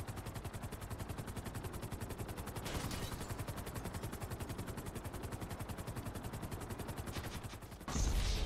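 Rapid machine-gun fire from a helicopter in GTA Online, a fast continuous stream of evenly spaced shots over rotor noise, fairly faint, ending in a louder burst.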